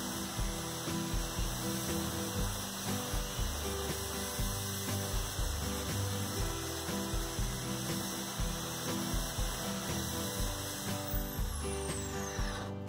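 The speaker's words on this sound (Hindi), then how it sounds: "अब बोर्ड की हीटसिंक पर होल कर लेते हैं।" A power drill bores holes into the aluminium heatsink of a DIY 200-watt audio amplifier board, a continuous loud grinding whir with rhythmic pulsing, close and alone throughout.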